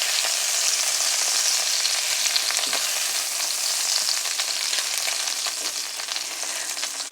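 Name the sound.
sea scallops frying in oil in a pan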